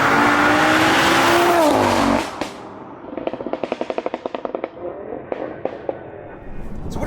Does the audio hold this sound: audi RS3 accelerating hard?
yes